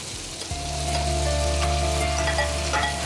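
Sliced onions fry in hot oil in a pan while being stirred, making a steady, close, loud sizzle with faint scraping from the stirring, and no talking.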